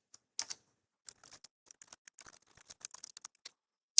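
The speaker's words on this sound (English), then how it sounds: "And then we can just type in the name of our new shapes." Close, crisp typing on a computer keyboard, bursts of quick key clicks with short pauses between words, heard alone in a quiet room.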